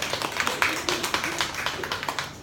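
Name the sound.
seminar audience applause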